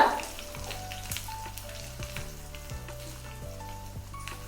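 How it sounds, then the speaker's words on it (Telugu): Tempering of mustard seeds, dried red chillies, crushed garlic, curry leaves and asafoetida frying in oil over a low flame, a soft continuous sizzle with occasional light crackles and pops, fairly quiet and close. "చిన్న మంట మీదే ఏగనీయండి తాలింపుని"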